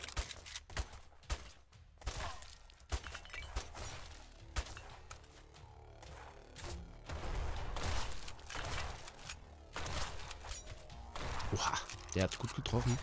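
Sniper fire in the airship game Black Skylands: scattered sharp cracks and thuds at uneven intervals under ongoing talk, fairly faint against the busy game noise.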